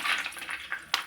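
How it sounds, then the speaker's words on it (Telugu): Cashews fry in oil toward light brown, a brief soft sizzle broken by crackles and a sharp clink of stirring near the end. "ఇప్పుడు జీడిపప్పు తీసుకున్నాను నేను. ఇది కొంచెం లైట్గా బ్రౌన్ కలర్లో వేయాలి."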